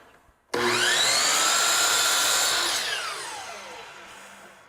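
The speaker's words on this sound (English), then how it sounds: "Now we take it to the chop saw and we're going to cut 4 4-inch pieces" Chop saw cutting pieces of metal stock: a sharp motor start, a loud whining cut of about two seconds, then the blade winding down with a falling pitch, close and without talk.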